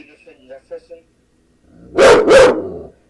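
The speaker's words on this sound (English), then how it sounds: "Oh my God, my dog, bro." A dog gives two loud, close barks in quick succession after some brief, quieter talk.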